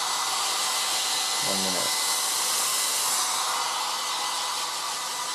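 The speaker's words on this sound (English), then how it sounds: "So it is a dual speed hairdryer." A 1980s Black & Decker SW105 Stowaway 1000 dual-speed travel hairdryer runs on high heat and high speed with the nozzle off, giving a loud, steady airy roar throughout. A brief voice cuts in near the middle.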